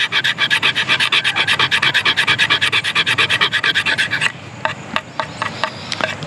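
A Otter Mercator K55 Black Cat folding knife blade scrapes fatwood in quick, regular rasping strokes, loud and close, then slows into a few sparser scrapes near the end.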